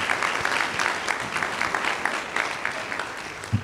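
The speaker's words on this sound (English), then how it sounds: "You deserve a round of applause." Guests at a college athletic hall of fame luncheon applaud, a lively crowd of hands clapping in a quick, uneven patter with a louder thump near the end.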